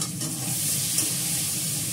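Spice paste with ginger paste and a little sugar sizzles steadily in a wok (kadai) while being stirred and sautéed, a close, continuous hiss with soft scraping throughout.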